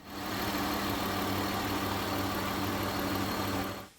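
A 1999 Acura RL engine idles steadily just after starting, with fresh timing belt, balancer belt and water pump, giving a constant low hum with mechanical whir throughout, close and alone.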